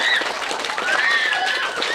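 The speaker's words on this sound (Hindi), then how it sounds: "इस संकल्प को सलाम और जोरदार ताली" Applause from a village audience at the opening of a constitution education centre, a continuous even patter of clapping with a thin whistle-like tone weaving through it.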